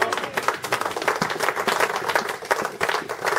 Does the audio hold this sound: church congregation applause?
yes